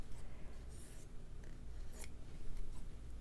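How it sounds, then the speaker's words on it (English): Scissors snipping through a small piece of fabric, a quick series of close, crisp cuts and rustles, quiet and with no one talking. "I'll cut a little piece."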